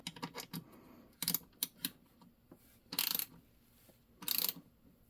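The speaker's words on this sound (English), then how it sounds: "So here I got a keyboard tray, and it is getting a little bit loose. So let's go ahead and tighten that up." Mini 1/4-inch ratchet wrench tightening a screw on a loose keyboard tray, heard as a few short bursts of fine clicking ratchet teeth spread across the moment, close and fairly quiet with soft handling taps between.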